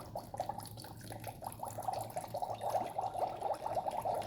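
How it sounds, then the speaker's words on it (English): Water poured into a Magic Mixie toy cauldron, a faint, close trickle and splash of liquid filling the small container. "So the first step is to pour this water into the cauldron"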